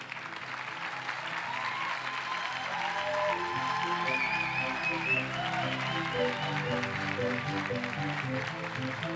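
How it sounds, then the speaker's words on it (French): An audience at a doctoral graduation ceremony applauds in a steady, full round of clapping that fills the hall, with a voice talking briefly over it. "Oui, on peut les applaudir."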